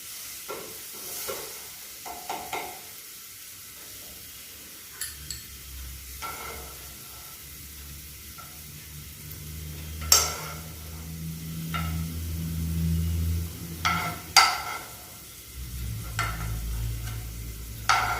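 Capsicum fries in a pan during a students' cooking competition, with a steady sizzle broken by scattered stirring scrapes and clicks of a utensil against the pan.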